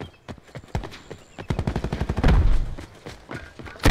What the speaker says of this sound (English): I'm running towards the gunfire.